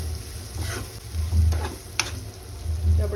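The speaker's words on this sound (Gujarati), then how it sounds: "હવે આને છે ને 2 થી 3 મિનિટ છે ને તેલમાં જ આપણે કૂક થવા દેવાના છે" Ridge gourd (galka) pieces sizzle in oil in a pan over a medium flame, a soft steady frying hiss with occasional stirring scrapes and a low background hum.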